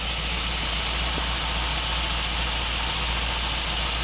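Coronet car engine idles just after starting, a steady close rumble with an even mechanical vibration, unbroken and with no voices.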